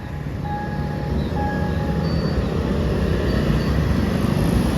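A train rumbles past nearby at a level crossing with a steady low roar, while faint high tones ring briefly above it, no one speaking.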